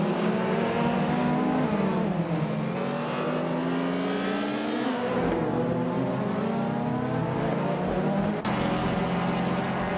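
Race cars in a racing video game, including a 1993 Ford Mondeo in a touring car field: steady, loud engine drone with layered rising and falling whines as cars hold speed and shift, continuous throughout.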